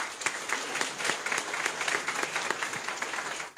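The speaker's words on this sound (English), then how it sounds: "Please give them a round of applause." Audience applause for the judges at a Miss Pacific Islands pageant in Honiara, Solomon Islands, a steady wash of many hands clapping throughout, moderately distant and without voices over it.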